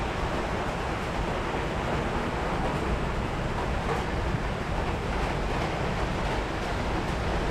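Fairly heavy rain falls outdoors as a steady, even hiss with no breaks, fairly loud and close throughout.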